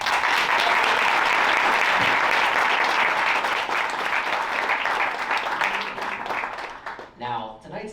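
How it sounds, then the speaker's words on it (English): An audience at a startup demo day claps loudly and continuously, the dense applause tapering off near the end as a voice begins to speak. "Let's give them a round of applause."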